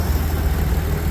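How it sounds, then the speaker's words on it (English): A 1941 Dodge WC-6 command car with a freshly rebuilt carburetor idles smoothly, a loud, close, steady low rumble with an even throb and no talking. "Idling a lot smoother now, it's all cleaned out."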